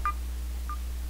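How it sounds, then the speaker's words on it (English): Three short electronic beeps from a mobile phone, spaced evenly about half a second apart, loud and clear over a steady low hum with no talking. "And if you heard that, that was my phone."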